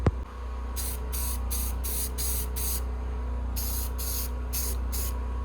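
A spray can hisses in a series of short bursts, six in a row, a pause, then four more, steady and close over a low background hum.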